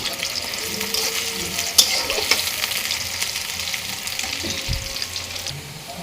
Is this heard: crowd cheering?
no